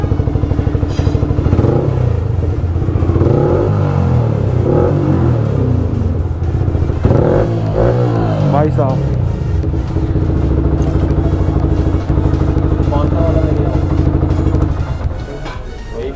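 A KTM Duke 250 motorcycle engine idles loudly and revs up in rumbling bursts, steady and close throughout, with a brief spoken phrase over it.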